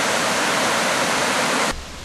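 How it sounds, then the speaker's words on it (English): A stream runs beside a picnic area on a nature trail at a heritage center, giving a loud, steady rushing of water that drops off abruptly near the end. "Here we have a picnic area by the stream that you can hear in the background."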